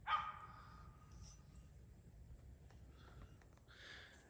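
A hunting dog on private land during a deer hunting trip gives a single bark at the very start, then faint whimpers and yips follow at a distance over quiet outdoor background.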